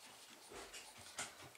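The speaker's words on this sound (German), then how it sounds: "Was da jetzt angeflitzt kommt, ist mein Hund." Dog panting softly nearby, quick faint breaths in an uneven rhythm with a few small scuffling sounds, heard quietly with no talk.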